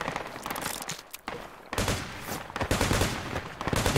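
Rifle fire in the hardcore military shooter Project Reality, loud overlapping volleys from a squad in a firefight, crackling on and off across the clip without talk.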